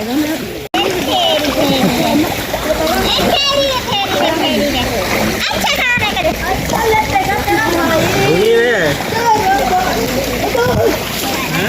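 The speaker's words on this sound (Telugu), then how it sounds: "ఈ కొండల దగ్గర నుండి వచ్చే వాటర్నే ఒక వాటర్ ఫాల్ లాగా వస్తుంది" Water at Bimunipadam Waterfalls in the Gudur hills spills and splashes in a steady, loud wash throughout, with people and children talking over it.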